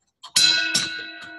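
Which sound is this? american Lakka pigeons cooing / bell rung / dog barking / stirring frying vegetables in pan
bell rung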